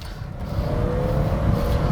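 A 1991 BMW E30 325i Motorsports engine accelerating steadily, a continuous close, loud engine drone that rises gradually in level as it pulls toward the red line, with no voices.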